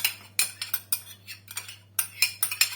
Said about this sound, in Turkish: Bu tabağımıza mayonezimizi koyalım.